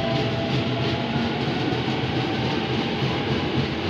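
A 12-car commuter train rolls through Sudirman station with a steady, loud, continuous rumble and clatter of wheels on track, filling the whole moment with no voices heard.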